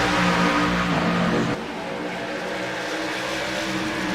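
Race cars roar back up to speed on a restart as the pace car pulls off, a loud, dense engine drone that dips slightly partway through and then holds steady.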